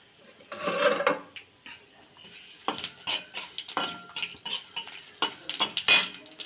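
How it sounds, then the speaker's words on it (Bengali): Bay leaf, dried chilli and asafoetida crackle in hot oil for a tempering, with a loud clatter of a metal spoon scraping and knocking the pan in quick irregular bursts up close, under a faint sizzle. "তেল তেতে গেছে, এই যে তেজপাতা আর শুকনো লঙ্কার একটু হিং ফোড়ন দিলাম"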